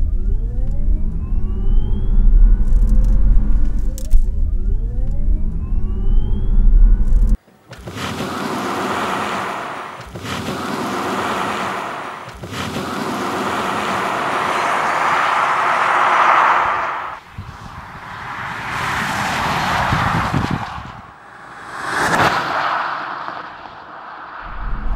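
A 2016 Tesla Model S P90D accelerates from 0 to 100 km/h in Ludicrous mode. A loud, rushing surge of wind and road roar follows an abrupt cut and swells and fades over about seventeen seconds, heard from inside the car.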